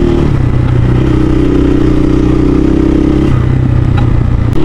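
Dirt motorcycle (KRY 200) running on a rough rural road near Lobo, Batangas, its steady mid-pitched engine drone holding loud and close with a rattling clatter over the whole stretch, easing slightly near the end.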